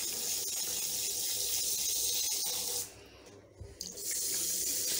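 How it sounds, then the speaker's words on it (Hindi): Water is poured over an English Angora rabbit to rinse shampoo from its coat, a steady splashing stream that breaks off briefly and then resumes. "एक और मरतबा यूँ पानी बहा दूँ ताकि अच्छी तरह से शैम्पू निकल जाए"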